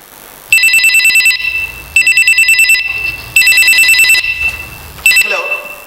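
A telephone rings loudly and close in bright electronic bursts, three long trills and a shorter fourth separated by brief pauses, with faint voices in the gaps.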